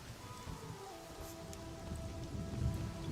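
Rain effects in the video game Monsters & Memories, a steady hiss of falling rain with a low rumble building toward the end, soft and continuous under a faint tonal drone.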